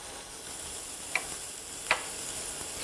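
Mushrooms and vegetable toppings sizzle softly and steadily in a frying pan, a continuous close hiss broken by two sharp ticks, with no voices.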